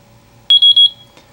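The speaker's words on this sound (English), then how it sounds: "the system has just beeped 5 times and it let us know that the system is now active" A PixController VideoEye camera control system gives a short series of sharp, high-pitched electronic beeps as it arms, loud and close in an otherwise quiet setting.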